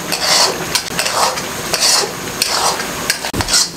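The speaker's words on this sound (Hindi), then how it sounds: "ये अच्छे तरीके से इसकी भुनाई कर लें घी के अंदर" Sohan halwa mixture roasting in ghee over a medium flame is stirred with a metal spoon in rhythmic scraping strokes against the pot, with a soft sizzle beneath and one sharp knock near the end.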